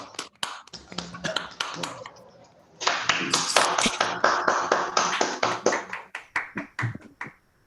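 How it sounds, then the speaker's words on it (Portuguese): Scattered applause over open microphones on an online physics seminar call, irregular individual claps at first, then a denser burst of clapping from several participants that thins out again toward the end. "a gente dê uma salva de palmas"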